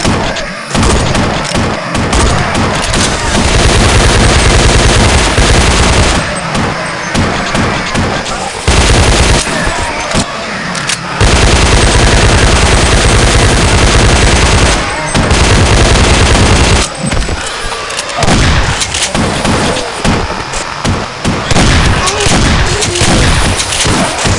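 Dense, loud gunfire from the Half-Rats: A Fever Dream Remod video game mod, with continuous automatic bursts and booming shots that barely let up, broken only by short gaps.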